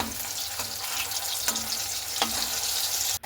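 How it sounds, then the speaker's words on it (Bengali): Potato and rice flour snacks fry in oil in a pan, a steady close sizzle broken by a few brief clinks and scrapes as pieces are turned. "তো 2 পিঠই খুব সুন্দর করে কিন্তু ভেজে নিতে হবে"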